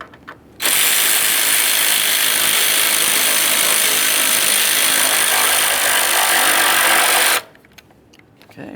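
A power ratchet or driver tightens the battery hold-down bolt on a 2015-2020 Ford F-150, a loud continuous mechanical whir lasting about seven seconds, with quiet before and after.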